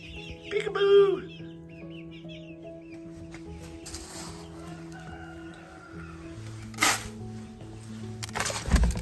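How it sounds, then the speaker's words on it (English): Young chickens and roosters cluck and chirp inside a coop in the early morning, with a loud burst of clucking near the start and scattered, softer calls after, alongside steady background hum and occasional rustling. "I think we have a couple of roosters in here."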